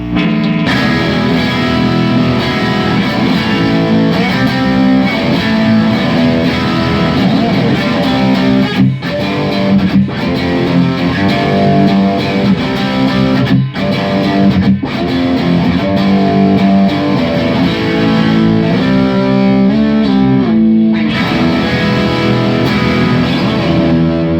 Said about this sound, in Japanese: では今度はそのままヴィンテージジャガーを歪ませます。